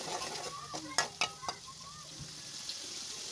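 A spoon scrapes and clanks against a pan while stirring sizzling tomatoes as they cook down, a few sharp metallic knocks close by over a soft continuous fry.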